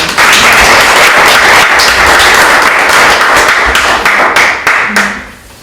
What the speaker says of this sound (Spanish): un aplauso para Alejandro.